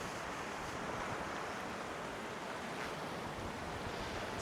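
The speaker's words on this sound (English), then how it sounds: "It's quite windy here now." Steady wind roars and gusts across the microphone on a pier on Ireland's Ring of Kerry coast, mixed with a broad wash of surf, continuous and loud without any talking.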